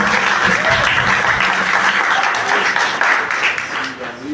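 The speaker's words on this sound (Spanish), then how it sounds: "Attendez, on va applaudir." A church audience breaks into steady applause, dense and sustained across the room, fading slightly toward the end.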